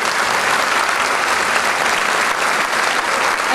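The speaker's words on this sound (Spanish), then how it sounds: "para quien pido un fuerte aplauso" Loud, steady applause from a concert audience at an opera and mariachi performance, dense clapping filling the whole stretch without a break.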